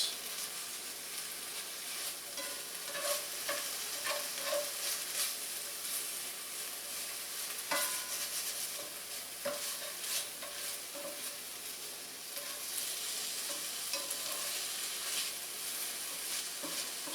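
Shaved rib eye sears in a hot pan for a Philly-style sub, a steady loud sizzle with scraping stirs and occasional clacks of a utensil, no voices.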